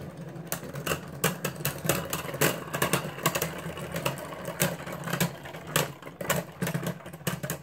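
Beyblade Burst tops spinning and clashing in a stadium at a tournament, a steady whirring hum broken by rapid sharp ticking clicks of collisions, close and continuous.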